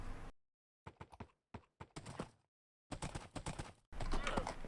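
Horse wearing diamond horse armor in Minecraft, bursts of clip-clop hoof sounds in short rhythmic clusters separated by silences, moderately loud and close; no talk.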